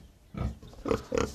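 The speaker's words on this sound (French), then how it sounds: "Putain, c'est un cochon." A pig grunts three times in short, close, low snorts spaced about a beat apart.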